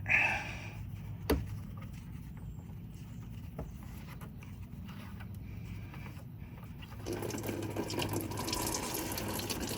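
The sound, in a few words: coolant draining from Toyota Tundra radiator drain valve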